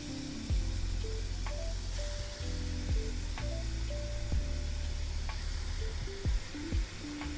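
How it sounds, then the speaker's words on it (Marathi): Grated bottle gourd sautéing in ghee in a kadai, a steady sizzle broken by several sharp scrapes and clinks of the spoon as it is mixed in batches. "थोडं थोडं टाकते आणि मिक्स करते आणि म्हणजे तुपावरती थोडंसं परतून घेते"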